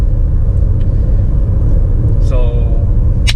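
Steady low rumble of a Mazda CX-5 with the 2.2 diesel engine while driving, heard from inside the cabin as continuous road and engine drone, with a brief faint chirp near the end.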